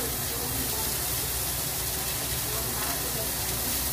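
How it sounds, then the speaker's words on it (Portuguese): Onion sizzles in the same pan that just grilled tilapia, a steady dense hiss and crackle filling the whole clip without letup, fairly close. "Grelhar a cebola para e o alho para fazer o molho."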